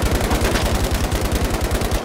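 Fast automatic gunfire in Battlefield V, a loud, close, steady stream of evenly spaced shots lasting about two seconds before stopping abruptly.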